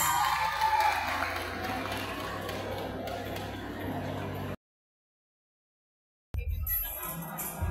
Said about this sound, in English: please give our ladies a round of applause